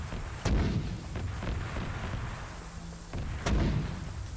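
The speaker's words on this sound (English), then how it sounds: "setting this mortar up, we gotta go medium range here" Mortar firing ranging shots in the military shooter Arma 3: two heavy, booming launches about three seconds apart, each with a sharp thump and rumbling tail over steady background ambience.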